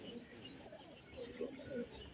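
Pigeons of the tay palat fancy breed cooing, soft low murmuring coos rising a few times near the end, faint and close amid quiet room noise with possible light talk.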